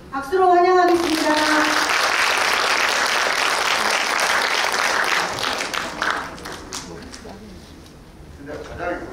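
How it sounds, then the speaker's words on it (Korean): An indoor audience applauds as officials are welcomed onto the stage at a childcare association conference in Suncheon, a dense burst of clapping that rises quickly, holds, then fades out, following a brief announcer's voice. "박수로 환영하겠습니다."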